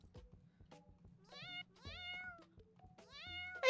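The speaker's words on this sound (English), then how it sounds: "It just says meow if you click on this keychain." A cat keychain in the video game Online Obsession gives bright, clear electronic meows when clicked, three or four in a row with brief pauses and soft clicks between them.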